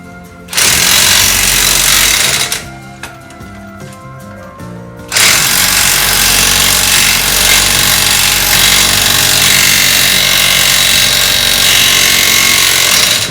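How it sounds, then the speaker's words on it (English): An impact wrench hammers a wheel stud through the rear hub of a Jeep WJ, a loud continuous rattling burst that pauses briefly after a couple of seconds, then resumes and runs steadily to the end. "I'm getting ready to put the impact on it and pull that last stud on through."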